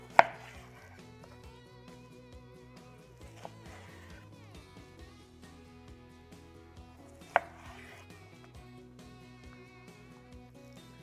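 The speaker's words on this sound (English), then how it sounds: "I'm gonna trim this fat up right here" A knife trims fat from a New York strip steak on a cutting board, with a couple of sharp knocks against the board and soft cutting sounds under quiet background music.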